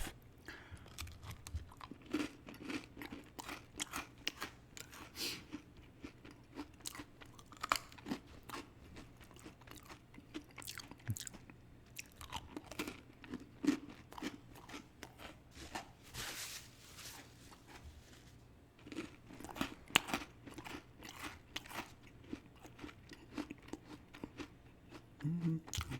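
Homemade cookies being bitten and chewed up close, with repeated crisp crunches and moist chewing sounds over a quiet background, with no talking.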